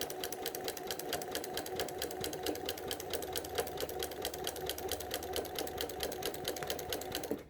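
A sewing machine fitted with a walking foot stitches through a quilted placemat with batting, running at a fast, steady rhythmic chatter for several seconds before stopping at the very end.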